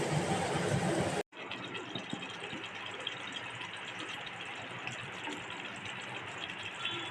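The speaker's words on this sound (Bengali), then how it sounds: "একটুখানি গরম জল দেবো" Hot water is poured into a simmering Bengali egg curry with potatoes, giving a short gushing splash followed by soft, low bubbling and faint rattling in a quiet kitchen.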